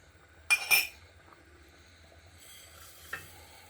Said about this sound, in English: I'm giving it a stir.